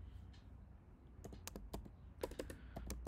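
A computer keyboard clatters with quick bursts of typing as an SQL query is entered, keystrokes near and steady with short pauses between runs, no voice.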